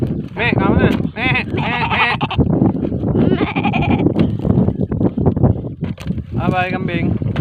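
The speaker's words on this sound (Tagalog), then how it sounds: "Kambing goats." Goats bleat loudly and close by, in repeated wavering cries that come in several bursts with short gaps between them, while people talk over them.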